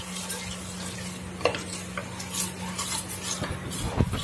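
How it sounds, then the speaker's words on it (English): Chickpeas being stirred in hot oil for a homemade chickpea gravy, with a utensil scraping and clinking against the pot in irregular strokes over a soft, steady frying hiss and a low background hum. "we have to mix them so in the oil until they are fried properly"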